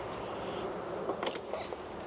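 Buckfast honeybees buzzing inside a hive after being smoked, a faint, steady low hum close by with a few brief louder rustles, no talking.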